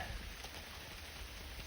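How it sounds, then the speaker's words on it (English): Steady rain pours down outdoors on a wooded ridge, a dense, even hiss held at a constant level throughout with no voices over it. "Boy, you can hear that rain coming down."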